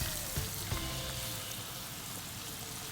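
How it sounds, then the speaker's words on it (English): Dahi vada dumplings frying in hot oil make a dense, continuous bubbling sizzle, close and even throughout, with a couple of faint knocks near the start. "we got to fry it till it's nice golden brown"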